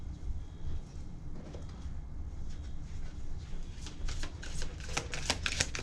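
Tarot cards being shuffled, soft riffling and flicking that grows into a run of quick crisp card snaps toward the end, close and fairly quiet.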